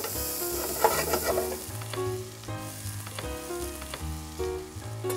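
Two tablespoons of tomato paste hit a hot pan for Amatriciana sauce and sizzle loudly, followed by steady frying and stirring scrapes close up, with music softly underneath.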